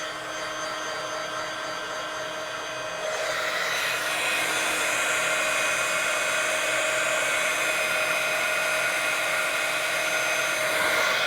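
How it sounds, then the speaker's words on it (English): Heat tool blowing hot air to melt embossing powder during crafting; a steady whirring hiss of fan and heater that grows louder a few seconds in and holds, with no talking. "I'm going to heat up my heat tool and I'm going to melt this powder."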